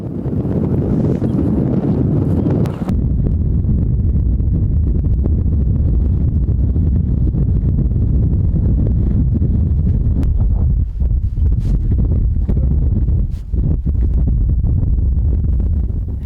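A strong wind drives a sandstorm across the Mongolian Gobi plateau, roaring loudly and continuously and buffeting the microphone from start to finish.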